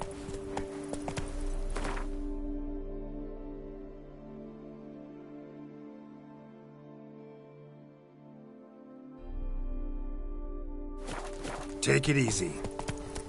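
Roach, a horse in The Witcher 3, pounds along in steady hoofbeats at the start and end, with a sustained musical tone in between and someone speaking briefly.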